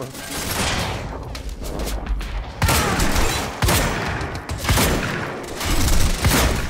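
Shotgun blasts in the video game Quantum Break, several loud booming shots that burst out of a dense, noisy background of continuous combat sound.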